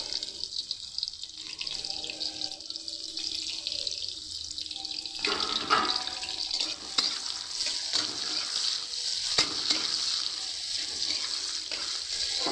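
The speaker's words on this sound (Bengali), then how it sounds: "পেঁয়াজগুলোকে ভালো করে ভেজে নেব লাল লাল করে।" Chopped onions sizzle in hot oil in a pan while being fried red for a Bengali potol dish, a steady, close hiss with occasional sharper crackles and stirring clatter.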